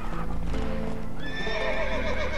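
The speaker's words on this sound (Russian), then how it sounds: "Вау, дикий табун лошадей." A herd of wild horses in The Witcher 3: Wild Hunt whinny and neigh over a dense patter of hooves, close by with overlapping calls rising near the end.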